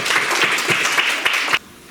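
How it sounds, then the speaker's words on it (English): An audience at a school public speaking contest applauding a contestant, a loud, dense wash of clapping that stops abruptly after about a second and a half. "A great applause for our first contestant, Pablo Higgins Criado, representing second of ESO A."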